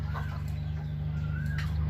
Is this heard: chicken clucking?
yes